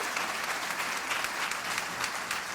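An audience applauds a band at a city address event, a dense, steady clapping that holds at a constant level from start to finish, with no voices standing out.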